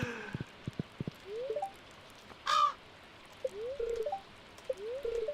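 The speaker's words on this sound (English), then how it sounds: "That was the sound of a crow." A crow in the farming game Stardew Valley caws several times in short, rising calls, alone over faint rain and a few soft tapping footsteps.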